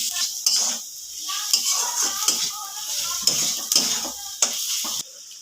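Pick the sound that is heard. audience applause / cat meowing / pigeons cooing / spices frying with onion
spices frying with onion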